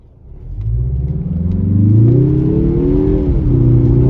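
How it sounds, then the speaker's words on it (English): A 2023 Mazda 3 Turbo hatchback engine revs up hard nearby, its pitch climbing steadily under acceleration with a throaty, rising drone. "Let's give it one more acceleration run real quick."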